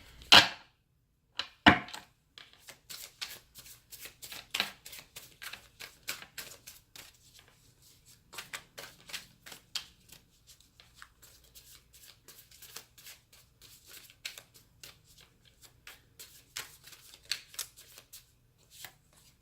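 Rapid, crisp riffling and tapping of tarot cards, heard close and fairly quiet, repeating in quick bursts with short pauses between shuffles.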